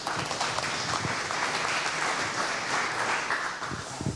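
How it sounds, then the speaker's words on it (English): Conference audience at a DevOps tech event applauds a speaker, a steady dense wash of clapping lasting throughout at moderate distance, with no talking over it. "So give applause for Constantin and enjoy the next talk"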